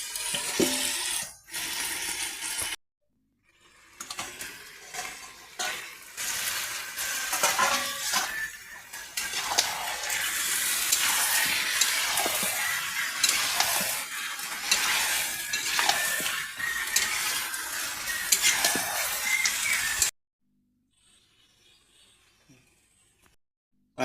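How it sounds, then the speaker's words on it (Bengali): Mutton sautés with onion and garlic in a covered pot, giving a long run of sizzling and frying broken by stirring scrapes and pauses, ending in near silence. "মশলা ছাড়া এটা পেঁয়াজ রসুনের সাথে ভালো করে কষিয়ে নেব।"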